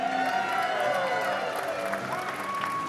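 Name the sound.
crowd cheering for the two Tetris finalists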